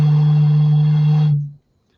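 A bottle sings a steady, low hollow tone as air is blown across its mouth, the container filtering the breath into one pitch; the note holds strongly and then fades away to silence.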